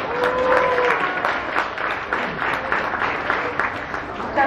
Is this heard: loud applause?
yes